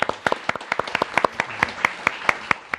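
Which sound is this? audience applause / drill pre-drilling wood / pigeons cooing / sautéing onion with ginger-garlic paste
audience applause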